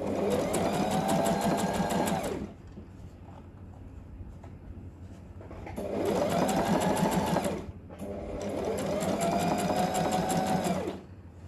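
A sewing machine stitches the bottom hem of a men's koko shirt in three loud, rapid bursts of chattering needle strokes, separated by short quiet pauses.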